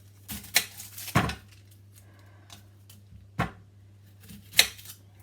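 A knife cuts an onion into quarters on a board in a home kitchen, giving a few sparse sharp knocks and taps spaced over several seconds against a quiet background hum.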